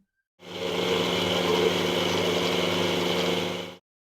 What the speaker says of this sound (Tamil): இப்போ நம்ம மிக்சி ஜாரை நம்ம அரைச்சாச்சு